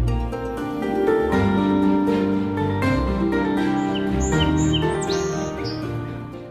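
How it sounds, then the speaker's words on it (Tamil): Small house sparrows chirp in short, high twittering bursts over a loud, steady bed of music, with the calls clustered in the latter half and partly masked. "நமது பண்பாட்டு அடையாளமாக இருந்து வரும் சிட்டுக்குருவிக்கு நாமும் ஒரு வாழ்விடம் அமைத்து கொடுப்போமானால் அந்த செல்ல சிணுங்கல்கள் தலைமுறை கடந்தும் நம் வீடுகளில் ஒலித்து கொண்டே இருக்கும்"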